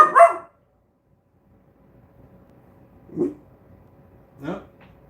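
A guard dog gives a few barks: one loud burst at the start, then two shorter, softer barks spaced well apart over a quiet indoor background.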